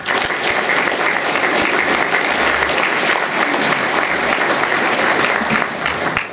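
A conference audience gives a sustained, loud round of applause, dense clapping filling the room steadily for several seconds.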